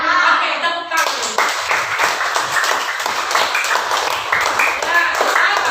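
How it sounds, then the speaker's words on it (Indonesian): Audience clapping after an artificial intelligence lesson, a dense steady patter of many hands that starts abruptly after a second and continues loud and close to the end. "Oke, tepuk tangan."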